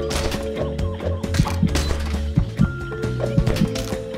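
Chickens in the game DeathSpank cluck in short, repeated bursts, mixed with thwacks and hits over a steady game music bed, fairly close and moderately loud.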